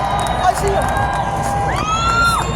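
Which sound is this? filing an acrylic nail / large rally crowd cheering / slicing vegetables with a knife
large rally crowd cheering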